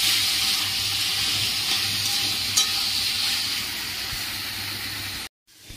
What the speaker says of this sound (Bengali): এবার গরম জল দিয়ে দেবো। এই গরম জল দিয়ে দিলাম।